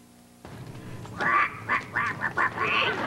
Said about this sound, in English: Oh, Polly, now be quiet and tend to your bird seed